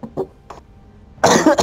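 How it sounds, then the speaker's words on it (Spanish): A person coughs in a burst of rough, loud hacking near the end of the clip, preceded by a few short, faint vocal sounds. "así me dio tos"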